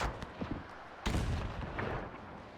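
Artillery fire in the WW1 strategy game Between Empires: two muffled, fairly quiet booms about a second apart, the second heavier, each trailing off into a low rumble.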